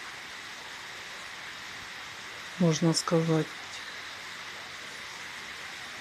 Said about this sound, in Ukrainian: І у нас злива